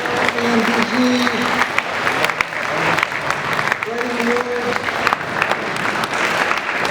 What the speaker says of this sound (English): how about a round of applause for all our award recipients today?